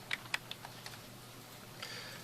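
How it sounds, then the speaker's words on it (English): Computer keyboard keys pressed while editing in Photoshop, a few quick soft clicks near the start, then quiet room tone with a faint later tick. "delete everything on the foreground layer, just using the delete key on the keyboard"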